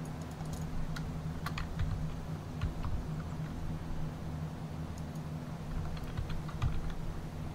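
Computer keyboard keys pressed in uneven bursts of sharp clicks, close and fairly loud over a low steady hum, with no one talking.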